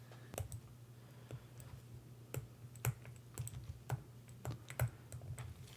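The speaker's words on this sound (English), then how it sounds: "I'm going to do that on the calculator. So I'm going to type it in exactly as we have it" Number keys tapped on a calculator, a dozen or so light, quick clicks at an uneven pace over a low steady hum, close and quiet.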